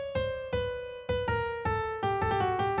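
Short input melody of single plucked or struck notes, about a dozen clear tones in a steady rhythm that quickens toward the end, quiet and alone.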